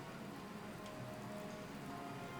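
Steady rain falls in Fire Emblem: Three Houses, a constant soft patter and hiss of drops on surfaces, even and unbroken at a moderate level.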